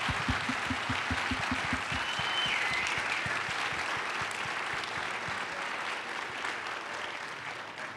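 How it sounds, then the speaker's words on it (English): Audience applause fills an auditorium at a family campaign event, a dense steady wash of many hands clapping loudly throughout, with a few distinct sharp claps standing out near the start. "give them a nice round of applause."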